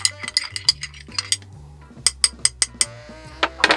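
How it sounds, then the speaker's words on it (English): A stir stick clinks repeatedly against a glass while a festive cocktail with bitters is mixed, sharp close taps in quick bursts over a soft background tone. "Followed with the fanciest of stir sticks."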